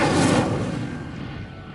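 A fire spell cast in Hogwarts Legacy, a loud roaring whoosh of flame that swells at once and then rushes on steadily before fading slightly over under two seconds.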